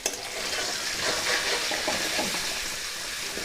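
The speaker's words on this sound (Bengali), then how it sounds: "এইবার দিয়ে দেবো পেঁয়াজ, দিয়ে খুব ভালো করে পেঁয়াজ কুচিগুলোকেও ভেজে নেব।" Chopped onions fry in oil in a pan while a stingray fish curry is cooked, making a dense, even hiss with faint crackles that holds steady at moderate loudness throughout.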